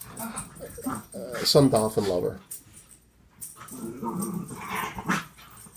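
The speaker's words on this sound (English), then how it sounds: "there are dogs behind me that want my attention" Dogs whimper, growl and bark nearby at a home where betta fish are kept, the whines and yaps coming in short clusters under a person talking.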